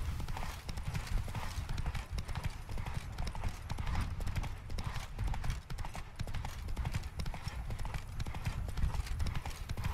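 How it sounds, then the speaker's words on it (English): Horse hooves clip-clop steadily in the video game Witcher 3: Blood and Wine, a continuous even rhythm of hoofbeats at close range with game music and ambience running underneath. "This is my horse."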